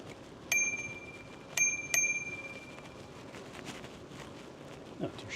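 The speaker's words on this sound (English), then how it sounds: "Got a new bell on my bike." A newly fitted bell on an e-bike rings three times, one clear ding followed by two quick dings, crisp and close against quiet outdoor background noise on a morning ride.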